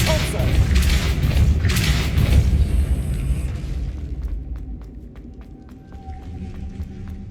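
Depulso force-push spell cast in the Hogwarts Legacy video game: heavy rushing blasts and booms fill the first few seconds, then fade into sparse soft clicks over a faint sustained tone.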